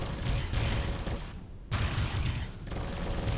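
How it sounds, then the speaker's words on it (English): Missile volleys launched in the space game Avorion, a dense crackling barrage of repeated bursts with a brief sudden gap before the firing resumes, loud and continuous. "Let's open them all up. There go all my missiles."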